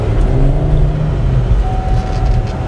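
A lifted Chevy Z71 pickup on a 6-inch lift, worn and hard-used, drives along with a steady loud engine drone and road rumble, a faint whine rising through it, no voices.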